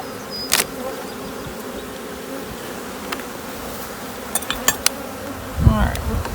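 Honey bees drone in a constant low buzz while a hive is opened for inspection, with individual bees zipping past the microphone and brief knocks and handling sounds nearby.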